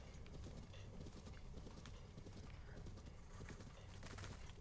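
Horse hooves clip-clopping at a steady gallop in the video game Zelda: Breath of the Wild, a continuous busy rhythm of hoofbeats with faint bird-like sounds mixed in and no talking.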